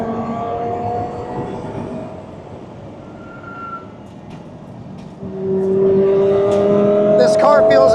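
An Audi R8 LMS Ultra race car engine drones steadily on track, then swells louder with a rising rev tone in the second half, while a person talks excitedly over it.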